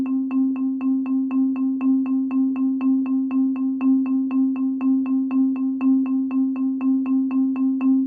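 A synth in Chrome Music Lab repeats the same short note as eighth notes in an even, quick pulse, steady and mechanical with no variation in pitch.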